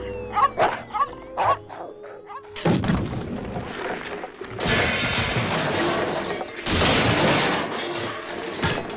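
A dog barks repeatedly, sharp and close at first, then bursts of noisy, rough barking that swell louder and fill the background.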